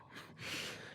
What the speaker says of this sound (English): Just breathing in the mic